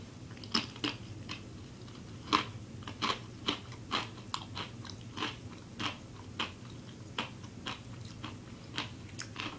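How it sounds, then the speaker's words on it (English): Buffalo wing pretzel crisps crunch between the teeth in a steady series of sharp, close bites and chews, fairly quiet with no talking. "I like the crunch, of course."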